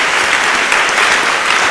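A church congregation applauding, a steady, loud, close wash of many hands clapping alone without pause.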